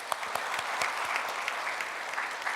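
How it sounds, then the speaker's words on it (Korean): Congregation clapping in a church service, a steady dense patter of many hands filling the space, sustained and even without speech. "하나님 앞에 영광의 박수 올려."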